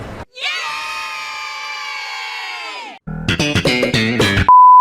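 A crowd of civilians screams loudly in the airport level of the 2009 video game Call of Duty Modern Warfare 2, a sustained wall of panicked cries that cuts off and is followed by sharp, staccato clatter.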